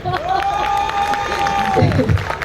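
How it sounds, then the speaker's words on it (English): An audience at a club launch party in Dehradun claps and cheers in a steady, fairly loud wash, while a sustained tone runs through the middle and a voice sounds near the end. "let's give him a warm round of applause"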